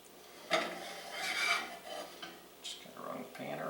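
Huevos rancheros with dill being pushed around a frying pan, giving a near, scraping, rubbing rasp in uneven strokes with a faint sizzle underneath and a few sharper utensil knocks.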